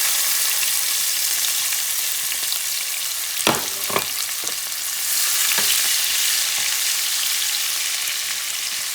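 Peppers frying in a pan over medium heat for chicken fricassee, a loud, hissing sizzle broken by a few quick clatters of stirring, with no voices.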